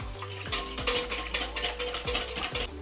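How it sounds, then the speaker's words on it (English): Rapid rhythmic whisking of eggs, milk, sugar and cinnamon in a bowl, with repeated quick clinks of the whisk against the side, close and moderately loud, no talking. "I'm just going to whisk egg, milk, sugar and little bit of cinnamon powder."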